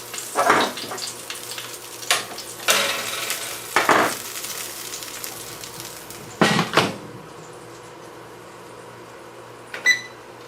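Lamb chops sizzling fat-side in a hot pan, with a steady frying hiss broken by several louder bursts as the meat is shifted and turned, plus a faint clink near the end.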